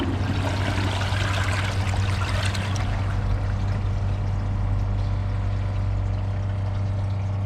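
A Glacier Bay PowerFlush toilet flushes paper towels with a loud rushing gush of water that eases into a steady lower swirl and trickle as the bowl refills.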